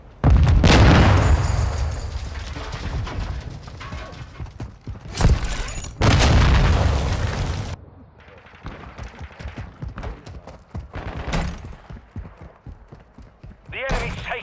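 Flash grenade in the video game Call of Duty: Modern Warfare II, a loud sharp blast followed by booming bursts and scattered gunfire, then quieter footsteps and rattling over a continuing battle.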